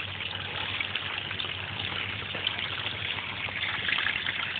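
Water gushes through a California-style bucket sluice used for gold prospecting, a constant close rushing flow that holds at an even level from start to finish.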